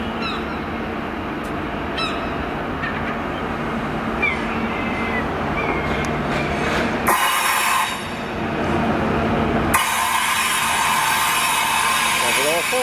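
A passenger train from Penzance rumbles past close by at Cardiff Central station, with steady mechanical noise, squealing tones and a sudden shift as carriages go by.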